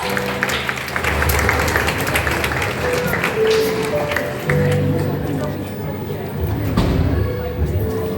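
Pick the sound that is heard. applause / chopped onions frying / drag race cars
applause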